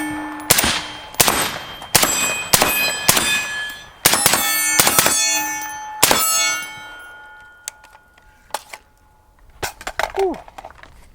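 A suppressed FN SCAR 16S rifle fires repeated close, loud shots at a rock, sharp cracks with metallic ringing and clanks spaced about a second apart, thinning to scattered clinks and a brief voice near the end.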